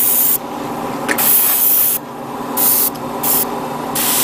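Metallic paint sprays onto a 1/144 HG Gundam model kit in four or five loud, close hissing bursts separated by short pauses.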